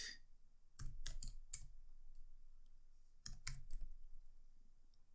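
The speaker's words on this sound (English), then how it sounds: "Okay, so let's type that in." A computer keyboard is struck in two short clusters of sharp, close key clicks, a few keystrokes each, separated by a pause over a quiet room hum as an answer is entered.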